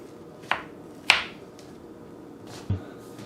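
Knife cutting bitter melon on a cutting board, three separate crisp chops spaced out over a few seconds, fairly close and quiet otherwise.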